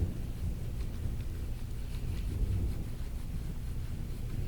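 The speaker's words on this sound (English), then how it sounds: "And thunder for a dramatic effect." A thunder sound effect rolls as a low, continuous rumble at moderate loudness, steady and without sharp cracks.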